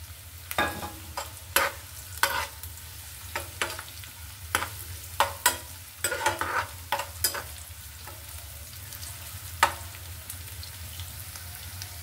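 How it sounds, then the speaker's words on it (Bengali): Chopped garlic, onion and green chili fry in oil, a soft steady sizzle broken by frequent sharp stirring clicks and spatula scrapes against the pan. "এখানে দিয়ে দিচ্ছি রসুন কুচি, পেঁয়াজ কুচি, একটা কাঁচামরিচ ফ্লেভারের জন্য।"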